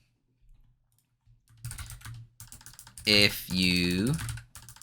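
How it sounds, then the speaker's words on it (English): Keys clatter on a computer keyboard as a status message is typed, brief clicking bursts mixed in among a person's speech. "That lets you type in something here like maybe I'll be away today."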